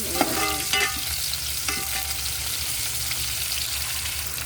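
Ingredients for chicken tinola being stirred and sautéed in a pan, a steady close sizzle with scraping utensil strokes early on, no voices.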